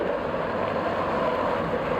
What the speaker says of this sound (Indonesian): masuk ke mesin giling ini ya.